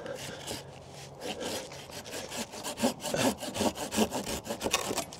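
A hand saw cuts through a thick peach tree branch during spring pruning in a home orchard, with close, rhythmic back-and-forth strokes that rasp steadily and grow slightly louder toward the end, with no talking.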